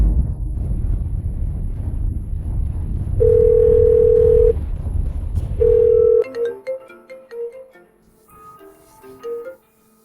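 A telephone dial tone sounds while a call is being placed, two steady sustained tones heard alone over a low rumbling background, followed by a melodic ringback-like tune of short notes.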